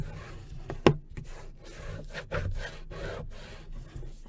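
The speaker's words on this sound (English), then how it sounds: "I'm going to stick my burnishing tool in here, okay, and I'm going to just give it a little burnish" A burnishing tool rubs over paper in a few short, close scraping strokes with brief gaps between them, fairly quiet, with no talking.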